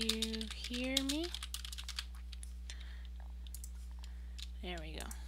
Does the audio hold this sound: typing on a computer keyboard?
yes